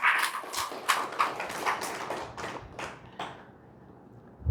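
A church congregation claps in a short burst of about a dozen sharp, fairly regular claps that thin out and fade, followed by a quiet pause and one final soft knock.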